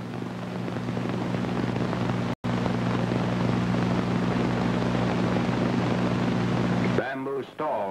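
C-47 transport aircraft flying troops and a Chinese regiment over the Himalayas, heard as a loud, steady propeller-engine drone with a low hum, briefly cut, then giving way to a voice at the end.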